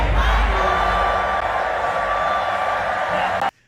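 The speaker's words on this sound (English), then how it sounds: "or does that sound like the crowd is having a great time?" A concert crowd at a show cheers and whoops as a loud, sustained roar that cuts off abruptly at the end.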